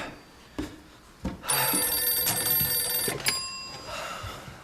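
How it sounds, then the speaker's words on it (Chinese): A telephone rings loudly and nearby with a bright, metallic bell trill lasting about two seconds. A short second burst follows, and no one speaks over it. "有电话"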